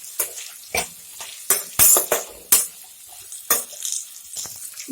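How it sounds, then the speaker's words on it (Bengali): Onion frying in oil in a pan for chilli chicken, with a light sizzle under a series of sharp spatula clanks and scrapes as it is stirred at an uneven pace. "প্রথমে পেঁয়াজটা দিয়ে দিচ্ছি, পেঁয়াজটাকে একটু ভেজে নেব।"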